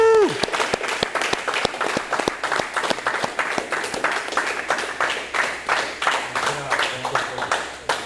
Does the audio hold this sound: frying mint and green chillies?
no